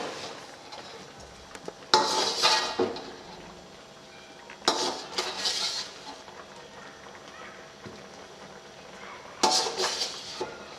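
A spoon stirs namkeen beef karahi, cooked without oil or vegetables, in a metal cooking pot: three bursts of scraping and clinking separated by a low simmering hiss.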